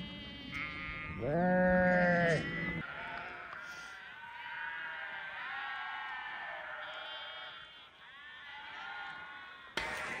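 Sheep and newborn lambs bleat close by. A loud, wavering cry is followed by a run of overlapping higher bleats that continue through the scene.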